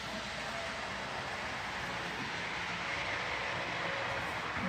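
A model toy train runs inside a train and toy store, a steady faint rolling rumble and rattle that holds evenly throughout with no voices.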